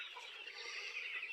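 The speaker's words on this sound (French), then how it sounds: "voici les poulets qui sont en préparation" Chickens on a poultry farm in Togo cluck and chatter faintly in a brief burst of soft, high-pitched calls.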